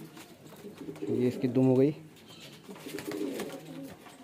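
Fancy male pigeons coo in a short burst of throaty, pulsing calls at close range, with someone talking over them before and after.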